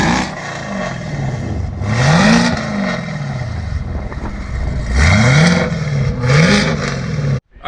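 A Chevrolet Camaro ZL1 fitted with headers and off-road pipes revs repeatedly, the engine note sweeping up and falling back in several loud blips over a rough idle, ending abruptly.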